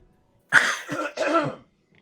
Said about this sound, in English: Let me clear my throat.